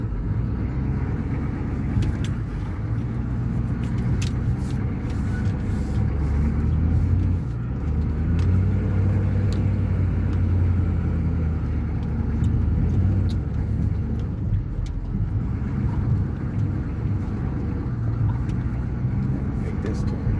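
A 6.2L Detroit diesel vehicle rumbles steadily as it drives and turns around a yard, its deep low engine drone constant and fairly loud throughout, with occasional faint clicks and knocks over it.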